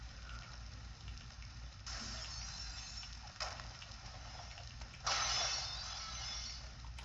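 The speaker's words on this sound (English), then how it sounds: "he's been sent through like a million glass panes" Glass panes shatter as a wrestler is driven through them in the game Wrestling Empire, heard as faint, noisy crashes in about three bursts, the last the loudest, over a low background hum.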